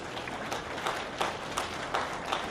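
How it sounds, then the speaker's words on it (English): Audience applause at a 4-H/FFA dairy heifer show, a diffuse wash of many hands clapping steadily with a few brighter accents, moderately distant and without talk. "give them a round of applause"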